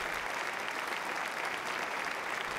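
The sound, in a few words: audience applause at a concert theatre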